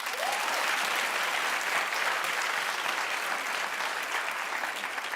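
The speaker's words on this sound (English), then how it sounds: "just clap if you agree." Studio audience applause fills the whole stretch, dense and steady, a bright continuous patter of many hands with no voices over it.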